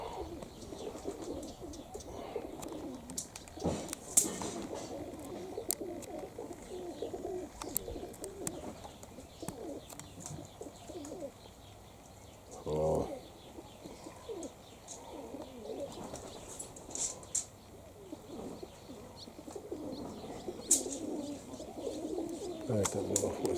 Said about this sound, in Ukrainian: Голуби летают, а мы балдеем.